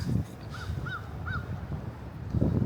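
Three short seagull calls in quick succession at a distance, set against gusty wind noise outdoors on a freezing morning at Lake Taneycomo.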